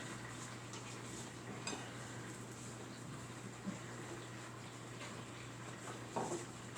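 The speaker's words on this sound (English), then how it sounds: "we're just gonna add in our sliced peppers and onions right in the same pan" Sliced peppers and onions going into a pan with sausage, a faint ongoing sizzle with light stirring and utensil clinks under a steady background hum, a few soft taps and scrapes along the way.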